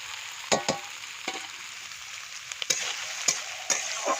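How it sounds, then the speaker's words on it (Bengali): Soybeans sizzle and fry steadily in a pan, with a few sharp clacks of a utensil scraping or tapping at irregular moments. "সোয়াবিনটাকে একটু ভেজে নেব।"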